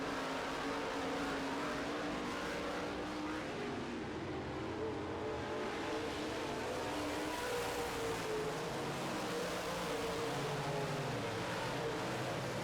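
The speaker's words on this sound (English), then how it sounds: "Lee McRae continues to take that Ford and pull away from the rest of the Chevys today" Modified race cars circle a track, with engines droning and roaring at a distance and rising and falling as the field passes, all under a constant wash of crowd and track noise.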